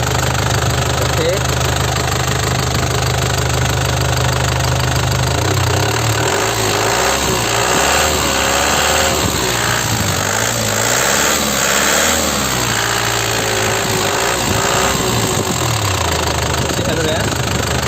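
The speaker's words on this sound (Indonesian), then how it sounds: "insya Allah mesin aman, suaranya masih enak, tarikannya masih nyut, tidak ngobos ya, nggak ngasap" A 2008 LM Smart Turbo engine runs steadily at idle, a loud, continuous low rumble that fills the whole stretch, with people talking over it.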